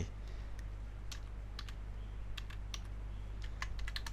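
Computer keyboard typing an app name while setting up a Facebook app ID, with scattered light key clicks over a steady low electrical hum, close and fairly quiet.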